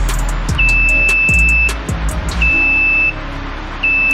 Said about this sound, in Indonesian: lalu nanti ada indikator mati itu akan nyala pip pip